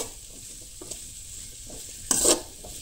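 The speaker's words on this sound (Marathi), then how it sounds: "सो आता कांदोय बीन बरोसो भाजून घेया।" Chopped onions sizzle steadily in a hot pan, with soft scraping stirs and a louder clatter of the spoon against the pan near the end, close by and with no talking.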